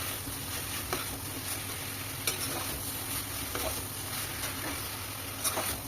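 Potato, pointed gourd and soybean fry with spices in a pan, a steady dense sizzle running the whole time with occasional scraping stirs, close and alone with no talk.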